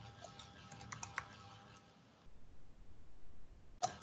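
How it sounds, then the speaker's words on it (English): Faint keyboard typing while entering a table in Excel: a short run of soft key clicks, a pause, then a couple more taps, quiet and close. "So let me just type in Excel."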